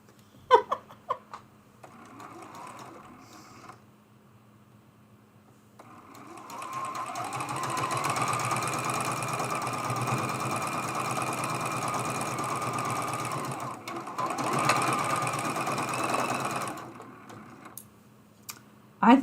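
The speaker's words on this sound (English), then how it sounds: "We're going to sew this piece first." A sewing machine stitches a fabric mug rug piece for an autumn pattern, running in a steady whirring burst of about ten seconds in the middle, close and fairly loud, with quieter handling noises before and after.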